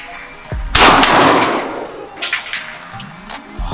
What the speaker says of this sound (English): This is the live gun. So I'm about to actually shoot it.